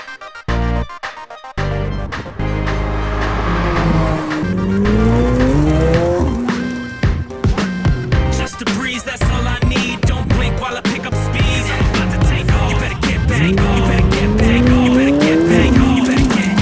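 Brand new McLaren sports cars lapping a Grand Prix race track, loud close engines rising and falling in pitch through gear changes, with tire squeal and skidding as they corner hard, several cars heard in turn.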